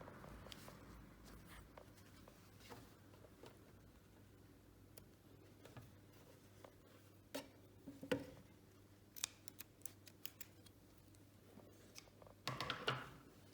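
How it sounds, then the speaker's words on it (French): Scissors snip loose threads on a jersey fabric mask in a quiet room, making scattered short, faint clicks and snips with a small cluster near the end. "je coupe les petits fils qui dépassent"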